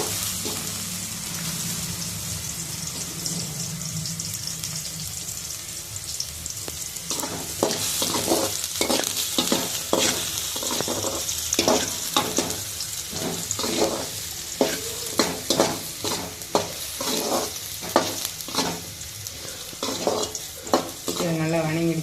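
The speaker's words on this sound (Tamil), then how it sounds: "எண்ணெய் ஊற்றி எண்ணெயிலேயே வணக்கணும் இல்லையா?" Pirandai (adamant creeper) fries in a small amount of oil in a pan, a steady close sizzle that becomes busier from about seven seconds with repeated scraping stirs and spatters. No talking.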